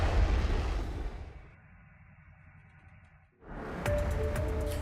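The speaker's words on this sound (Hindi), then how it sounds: "उनकी नेवी वहां जाती है और सी ड्रोन को बड़े धमाके के साथ उड़ा देती है।" A naval sea drone is blown up: a loud, roaring blast fades into a low rumble, then another forceful burst of noise hits again, heavy and close.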